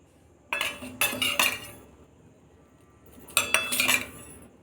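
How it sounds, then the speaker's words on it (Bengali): A small spoon scoops ajwain seeds from a metal container, making two bursts of bright clinks and rattling scrapes separated by a quiet pause. "4 চামচ জোয়ান নিচ্ছি আমি"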